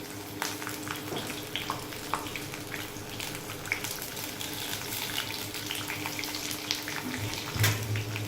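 Curry leaves sizzling and crackling in hot oil in a pan while cooking kurkurit poha, a steady close frying hiss with scattered sharp pops throughout, no talk.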